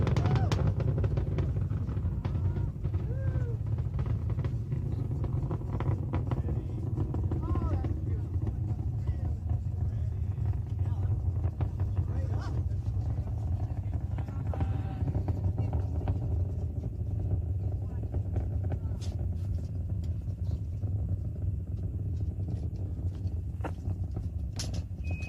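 A deep, continuous roar from Space Shuttle Endeavour's engines during launch from Complex 39B, throttled down to 67%, fills the whole stretch, steady and powerful with crackling texture, loud and unbroken from start to finish.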